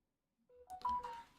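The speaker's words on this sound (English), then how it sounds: "Why is my phone going crazy?" A phone suddenly goes off after a moment of silence, a short run of dialing-style beeps and tones climbing into a brief burst of ringing, close and clear.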